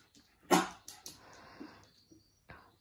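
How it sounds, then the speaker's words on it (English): A pet dog gives one loud bark, followed by a few quieter yips and whimpers while playing with toys indoors, close to the listener. "what are you barking at?"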